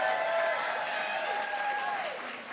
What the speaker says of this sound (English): let's give one last round of applause and thanks for everyone involved in making this happen